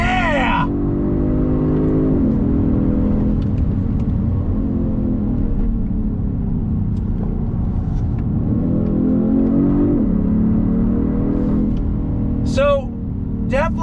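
A 2022 Genesis G70 sport sedan's engine revs and blips after a paddle-shifted downshift, a steady close, loud drone rising and falling through a turn, with a person's voice heard over it.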